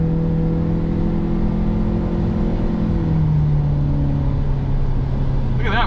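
A 2022 Audi RS 3's engine droning steadily inside the cabin as the car pulls hard, a loud, sustained hum with a slowly shifting pitch and a brief whoosh at the very end.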